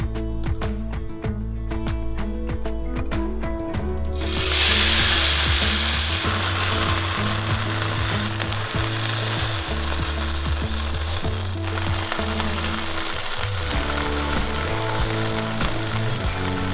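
A quesadilla sizzles steadily in a pan over medium-high heat. Scraping and stirring sounds come through now and then, and a louder hiss flares up briefly midway.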